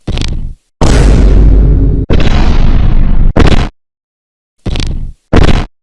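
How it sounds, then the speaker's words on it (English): The Vine Boom sound effect plays several times: loud, deep booming hits of varying length, each separated by silence, with one long decaying boom near the start. "this is the Vine Boom sound effect"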